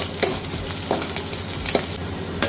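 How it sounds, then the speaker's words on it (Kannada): Chopped onions and curry leaves frying in a tablespoon of oil for Kerala-style prawn gravy, a close, dense sizzle with a few rhythmic stirring scrapes, no voices. "ಇದರಲ್ಲಿ ನಾವು ಆಗಲೇ ಕಟ್ ಮಾಡ್ಕೊಂಡಿರೋ ಆನಿಯನ್ಸ್ ಹಾಕೊಳ್ಳಿ. ಸ್ವಲ್ಪ ಕರ್ಬೇವಿನ ಸೊಪ್ಪು ಹಾಕೊಳ್ಳಿ."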